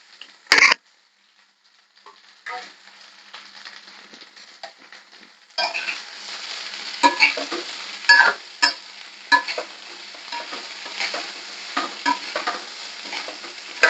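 Potatoes with turmeric and asafoetida dropped into hot oil in a pan: a brief clatter, then steady sizzling frying with repeated scraping stirs and utensil knocks, close and fairly loud.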